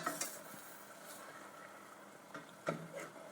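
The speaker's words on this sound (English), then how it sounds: "So I'm just going to stir this around one last time" Meat cooking in a pan is stirred with a spoon, a steady soft sizzle running underneath with a few sharper scraping and clinking strokes, the clearest near the end, close and fairly quiet with no talking.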